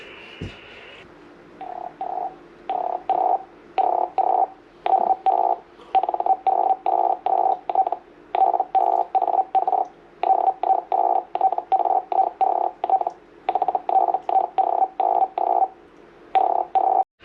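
Rapid repeating bursts of a warbling electronic data-mode tone from a ham radio station tuning up, chopped into regular pulses after an opening steady carrier, with no talking.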